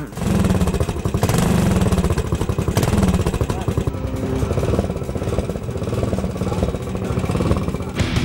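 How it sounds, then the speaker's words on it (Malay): Ducati motorcycle engines roar and rev during World Ducati Week in summertime Rimini, Italy, a loud continuous mechanical din of several bikes with crowd and voices mixed underneath throughout. "Deruman enjin Ducati memecah suasana musim panas di wilayah Rimini."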